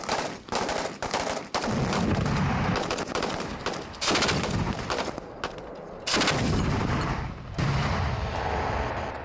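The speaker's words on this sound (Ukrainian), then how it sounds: "Звуки пострілів не вщухають на військовому стрільбищі." Repeated loud bursts of gunfire, including rapid automatic strings and heavier booming shots, echo across an open military shooting range with short gaps between volleys.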